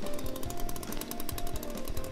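A chainsaw runs steadily in the video game I Am Bread, a loud continuous buzzing motor with a rapid rattling pulse and no talk over it.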